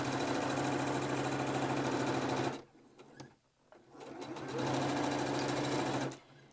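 Sewing machine stitching a fabric mask runs in a fast rattling hum, stops briefly, then restarts for another steady run before halting.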